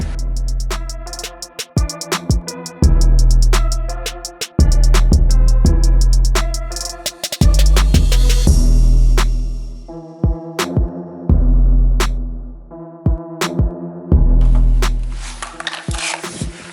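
A power drill bores holes and drives self-tapping screws into a broken wing during a repair, with loud motor whine in repeated bursts of a few seconds, each start and stop marked by sharp clicks.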